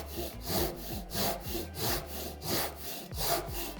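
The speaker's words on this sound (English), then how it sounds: "I'm going to start with the crosscut tooth, the slightly more complex tooth, to make a cut perpendicular to the grain" A Japanese Ryoba saw crosscuts wood perpendicular to the grain, its crosscut teeth making rhythmic rasping strokes at about one pull every half second, close and fairly quiet.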